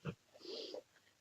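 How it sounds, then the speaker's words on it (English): A dog snores softly nearby with a single wheezy, snorting breath, a brief sniff at the start followed by a longer raspy rumble that fades out. "Your dog is snoring."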